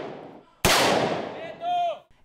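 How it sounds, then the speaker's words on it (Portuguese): A single loud, sharp gunshot cracks at a Brazilian BOPE police shooting range and rings out in a decaying tail, followed by a brief high whistling tone. "seguem aqui para o estande de tiro. Cada um tem direito a 3 disparos"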